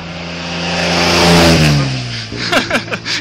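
A fast white car accelerating up the Kop Hill climb, its engine roaring louder as it approaches, then shifting and revving in sharp bursts as it passes close by.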